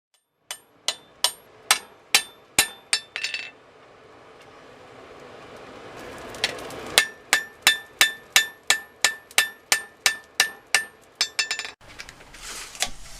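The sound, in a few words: hammer forging a steel sword blade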